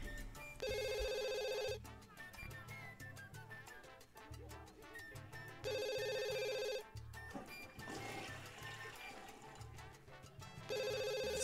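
Electronic telephone ringing in The Sims 2, a repeating bright tone burst recurring three times at regular intervals over game music and ambient sounds, fairly loud and close.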